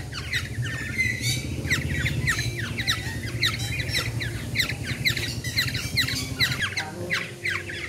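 Dense chirping and squawking from a large group of golden orioles held by a bird keeper, continuous overlapping calls throughout, close and fairly loud, with no talking.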